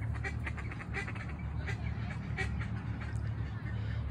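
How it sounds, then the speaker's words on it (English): Ducks, including wood ducks, quacking at a pond during an outdoor nature walk, with scattered calls over steady low background hum. "My favorite ducks are the wood ducks."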